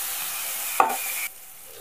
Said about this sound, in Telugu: మెంతికూర అండి ఒక కట్ట వేసేస్తున్నాను